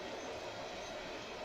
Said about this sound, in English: that looks like a string of empty tankers going by